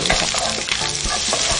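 Onions hit hot oil in a pan and fry with a loud, dense sizzle, crackling steadily up close with stirring scrapes mixed in and no voices.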